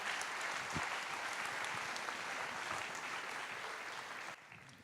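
A large audience applauds at a business awards evening in Valence Romans, with dense, steady clapping filling the room for several seconds before thinning out abruptly near the end.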